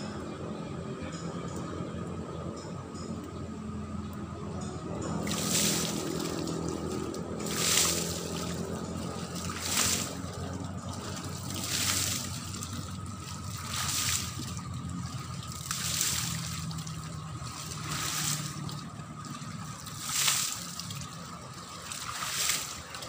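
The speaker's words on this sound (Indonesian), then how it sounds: "lihat aku mandi di sungai ya guys" Water splashes in regular bursts while someone bathes in the Barito River at Banjarmasin. A quiet trickling flow runs beneath the repeated splashes.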